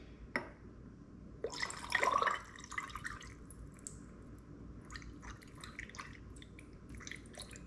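Water splashes and trickles into a moss ball's container in short bursts, quiet and close, with a louder pour in the middle and small drips after.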